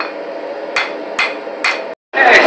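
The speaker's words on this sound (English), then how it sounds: "I managed to get the curve, I like it, by hammering on the inside." A scythe blade is hammered during forging: three sharp, evenly spaced metal blows ring over a steady hum, then a brief silence and a final louder strike.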